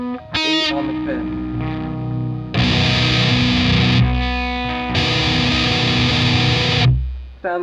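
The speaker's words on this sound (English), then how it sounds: "Sounds pretty shitty right now because I have my gain turned up from a song I was playing previously, so it's really busy and messy" Electric guitar run through high-gain distortion plays a riff on a busy, messy tone, with loud sustained distorted chords in two long bursts after a few shorter plucked notes.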